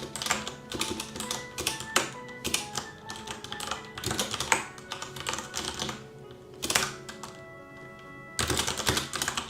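Someone types on a computer keyboard nearby, with bursts of rapid key clicks separated by short pauses.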